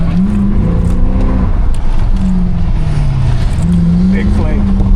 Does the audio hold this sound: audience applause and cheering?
no